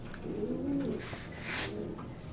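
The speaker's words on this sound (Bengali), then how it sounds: "তো খুবই ভালো একটা কবুতর" A pigeon, a pedigree hen bird in a loft, gives a soft, low cooing call that swells and fades twice, close by and clear against a quiet background.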